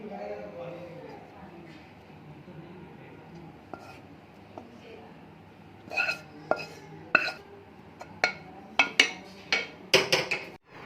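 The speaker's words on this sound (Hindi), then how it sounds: "अब मैं चटनी को डिश आउट करने लगी।" A spoon scrapes and taps against a dish while raw mango chutney is served, starting as soft scraping and ending with a run of sharp, close clinks, with faint speech early on.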